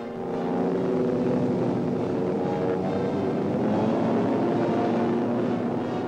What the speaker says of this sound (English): Towed by a transport, the glider goes aloft.